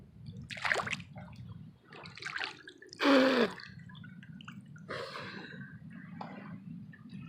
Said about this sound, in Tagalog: tatalob ako sa tubig